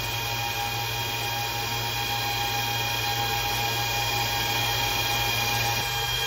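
Antminer S21 bitcoin miner fans running loud, a steady, dense roar with a constant hum that holds unbroken throughout, close by with no talking.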